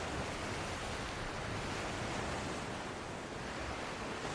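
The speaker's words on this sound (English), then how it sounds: "Waves lap." Waves lapping in an eelgrass-ringed lagoon at Izembek National Wildlife Refuge, a soft, continuous wash of water heard alone, fairly faint with a light breezy hiss throughout.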